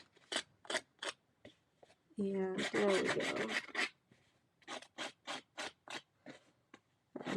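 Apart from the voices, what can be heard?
scissors distressing paper edges for cardmaking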